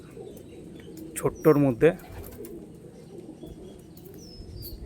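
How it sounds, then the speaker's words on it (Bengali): Two Andhra Kalanka pigeons, including a male, give a short burst of low cooing close by against a quiet background, with a voice speaking briefly nearby. "এই দুটো পায়রা এই নর পায়রা"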